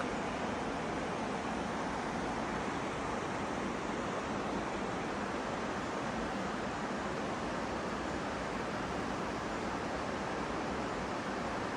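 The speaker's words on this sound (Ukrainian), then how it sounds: "А тут шум річки, запах смерек." A steady, dense roar of rushing water fills the air, broadband and unbroken, a fast mountain river close by in Yaremche with no other sounds.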